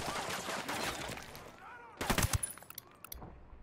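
Gunfire in the tactical shooter Ghost Recon Wildlands crackles as a few scattered distant shots early on, then a close burst of several sharp rapid rounds, with quieter game ambience in between.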